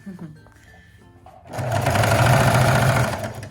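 A sewing machine stitches through the bulky, bunched fabric of a mini dress, whirring steadily and loudly up close for a couple of seconds after a few quiet handling sounds.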